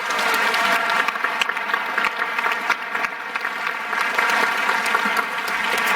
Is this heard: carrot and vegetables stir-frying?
no